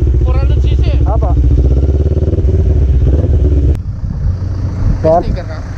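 A 400cc motorcycle engine idles and revs nearby, a loud low rumble running throughout with people talking over it.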